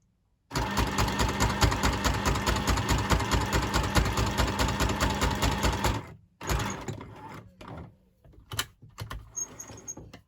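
Sewing machine stitching sari silk and lace across fabric, a fast steady mechanical whir running continuously for about five seconds, then stopping and restarting in short bursts.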